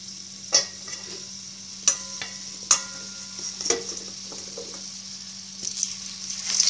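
French fries frying in hot oil in a pan on a gas stove, a faint steady sizzle with a low hum and a few sharp clicks and clatters scattered through, no voices.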